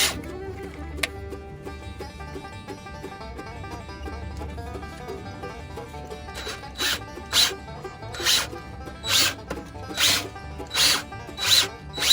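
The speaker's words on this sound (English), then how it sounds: "Let's try the drilling part this time." Repeated short bursts of a drill grinding into a broken metal grease fitting, roughly one per second, close and loud after a quieter stretch of handling.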